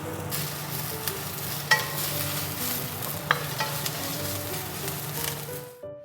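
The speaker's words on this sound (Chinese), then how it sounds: "那我们这个锅热了以后呢，我们下姜丝和葱丝。" Shredded ginger and scallion with sakura shrimp frying in a hot wok with a little oil, a steady close sizzle with light stirring clicks and scrapes throughout, fading out at the end.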